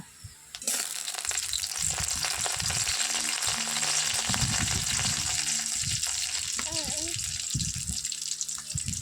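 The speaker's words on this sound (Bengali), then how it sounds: "পেঁয়াজ কাটা হালকা করে ভেজে নেব পেঁয়াজটা।" Chopped onions frying lightly in a pan for a chicken and potato curry give a loud, steady sizzle that starts abruptly and runs throughout, with brief clatter and a voice speaking faintly in the background.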